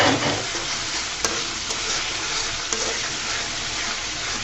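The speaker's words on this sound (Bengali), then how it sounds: "নেড়ে চেড়ে মশলাটাকে আমি কষিয়ে নিচ্ছি" Spices such as bay leaves, cloves, cardamom, cinnamon and meat masala frying for ghugni in a pan, with a steady close sizzle, stirring scrapes and a few sharp metallic clinks.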